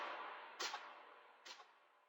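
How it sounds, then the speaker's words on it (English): Classic drill shot percussion hit pitched down a full octave, two sharp noisy bursts about a second apart over a soft decaying wash, quiet and without any voice. "We've got the classic shot sound in drill."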